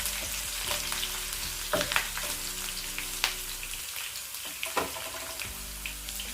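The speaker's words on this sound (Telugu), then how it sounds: "ఇది కొంచెం కలర్ వచ్చే వరకు వేయించుకోవాలి." Green chilli pieces frying in oil for green apple pickle: a continuous close sizzle and crackle with occasional stirring scrapes and clicks.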